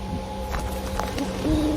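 A barn owl calling at night from a jackfruit tree in a village, brief tonal calls standing out over a low, steady background.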